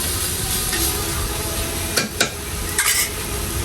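Leafy greens stir-fry in a pan with a loud steady sizzle, broken by a few sharp scrapes of the spatula against the metal.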